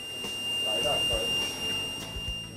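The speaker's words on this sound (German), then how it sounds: "Beide Geräte verfügen über eine Alarmfunktion, die bei Überschreiten der eingestellten Abweichung akustisch und optisch warnt." A Trimotions PET controller's acoustic alarm sounds a steady, high electronic tone that holds through the whole moment beneath narration.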